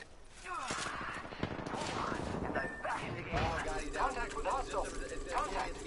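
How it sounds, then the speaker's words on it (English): Rapid gunfire in a video game firefight crackles through much of the stretch in sharp bursts and single shots, mixed with in-game effects and steady background noise, while players talk over it. "Firing. I am taking fire, friends."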